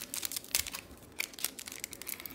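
Crinkly plastic wrapper of a Pokémon card pack being torn and crumpled in short bursts, with sharp rustling snaps close to the microphone and no voices.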